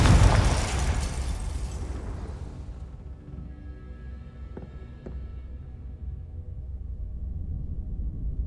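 A Confringo spell explosion in the Hogwarts Legacy video game, one loud, deep blast at the start that rumbles and fades over several seconds, leaving a low hum with a couple of faint ticks.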